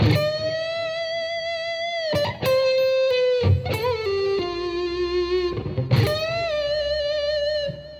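Sustained distorted electric guitar notes in a slow phrase, with a pre-bent note gliding down in pitch, close and loud, no talking.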